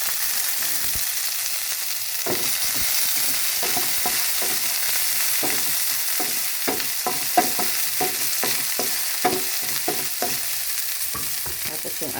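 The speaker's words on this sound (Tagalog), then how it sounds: "Tapos yung sibuyas natin. Igisa lang ng konti para lumabas yung lasa." Onions sautéing with ginger in a pan for mussel tinola, a steady sizzle broken by frequent clicks and scrapes of a spoon stirring, close and continuous with no talking.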